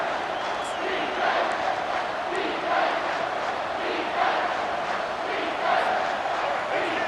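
Football stadium crowd roars loudly and steadily for a big third-and-short moment, with swelling waves of cheering and yelling across the whole stretch.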